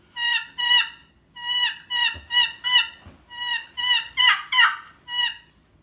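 A Wilper box turkey call plays a kee kee run, with three groups of high, whistling, raspy notes rising in pitch and spaced by short pauses, heard close and alone.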